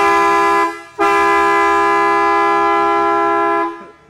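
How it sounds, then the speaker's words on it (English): A deafening Kleinn train air horn on a pickup truck, rated at 154 decibels, blasts a sustained chord, breaks off briefly, then sounds again for several seconds before cutting out, loud and close. "Now hit the horn."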